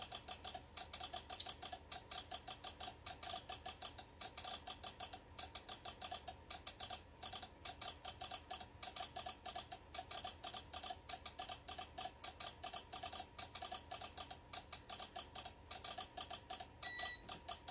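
A heat press used for sublimation printing clicks rapidly and steadily, a dense ticking pattern running throughout at low level with no voices.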